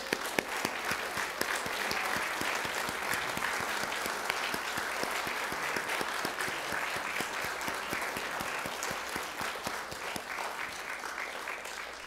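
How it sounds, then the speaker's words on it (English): A congregation at a Veterans Day church service gives a standing ovation to those who served. Steady, crisp applause from many hands continues throughout at moderate distance, a busy patter of overlapping claps. "let's give a resounding applause and standing ovation to all those who served and sacrificed for our freedom"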